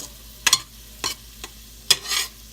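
A utensil scraping and stirring ropa vieja shredded beef ingredients in a pan, a few distinct sharp strokes spaced apart over a faint background sizzle.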